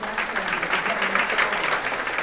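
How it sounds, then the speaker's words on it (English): Audience applause at a university lecture, steady dense clapping from a crowd filling the room, sustained throughout without a break. "deserves a round of applause"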